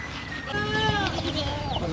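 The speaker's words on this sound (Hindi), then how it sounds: "देखो ये बकरी है" Goats bleating on a goat farm, several wavering calls rising and falling in overlapping succession, close and clear over a steady outdoor background.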